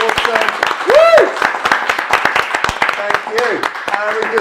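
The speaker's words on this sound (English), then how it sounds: "Can we get a round of applause for all the people at home and in the studio who've been involved?" A studio audience at a plant science livestream claps steadily in a round of applause, dense and close, with talking and a cheer over it.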